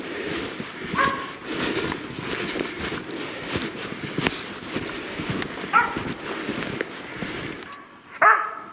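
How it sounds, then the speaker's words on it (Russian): A hunting dog on a taiga trapline barks at a sable it has chased up a cedar, with a few short, sharp barks standing out at moderate distance over footsteps and rustling movement. "Вот опять она прибежала в то место. Лает."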